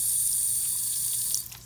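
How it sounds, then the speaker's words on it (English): Tap water runs steadily into a sink while a makeup sponge is dampened, a soft, even splashing stream that stops near the end, leaving a few faint drips. "just dampening my beauty blender with water"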